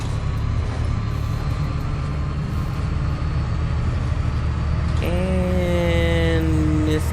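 Omsi 2 bus simulator, Cayuga USA map: a bus engine drones steadily at high revs without shifting gears, with a rising whine partway through, continuous and fairly loud.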